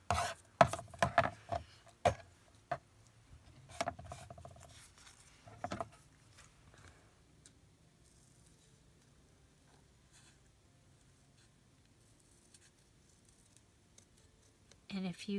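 Scissors snip through paper and napkin for handmade tag embellishments, a quick cluster of close, crisp cuts followed by a few isolated snips, then a long quiet stretch before more handling noise at the end.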